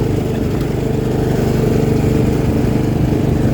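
A riding lawn mower engine runs steadily in fourth gear at close range, a loud continuous low chugging drone with no breaks.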